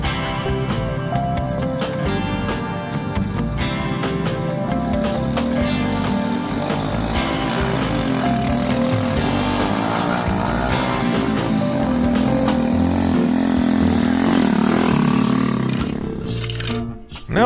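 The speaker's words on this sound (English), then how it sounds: "That bike is hauling so much weight, it really struggles to get up the small hill and into the gate." Motorbike laboring up a small hill into a farm gate while hauling a heavy load of sand, a strained, continuous engine drone close by for the whole stretch.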